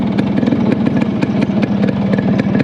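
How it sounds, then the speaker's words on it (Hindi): A Yamaha RX100 motorcycle fitted with a CDI kit idles on its stand, its two-stroke engine putting out a steady, rapid, loud putter close by, with no talk. "स्टैंडर्ड साउंड नोट सुना देता हूँ खड़ा करके बाइक को"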